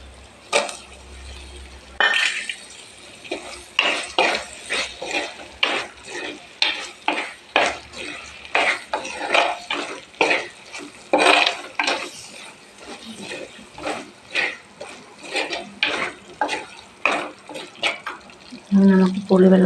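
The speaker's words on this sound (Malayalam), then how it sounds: "തക്കാളിപ്പഴം ഇട്ട് കൊടുക്കാം" Tomatoes going into a pan of fried chillies, heard as a loud, close sizzle under repeated rhythmic scraping and stirring strokes that run the whole way through, with a brief murmur of voice near the start and the end.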